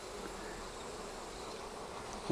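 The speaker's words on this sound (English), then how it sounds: "notice how the bees are kind of clearing away from the smoke" Honey bees buzzing around an opened Flow Frame beehive being smoked during an inspection, a continuous soft drone of many bees, fairly quiet and steady.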